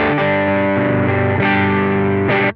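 Electric guitar through a BOSS FDR-1 Deluxe Reverb pedal with the bass EQ turned up: loud, full sustained chords that change a few times, then cut off abruptly, with no talking.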